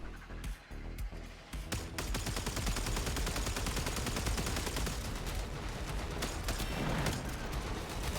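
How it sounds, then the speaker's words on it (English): Dense, loud bursts of gunfire and explosions from the Warframe video game during a sabotage mission, firing almost continuously with heavy overlapping blasts after a briefer, choppier opening. "You ever feel like all these explosions should be doing more damage to like the general terrain around us?"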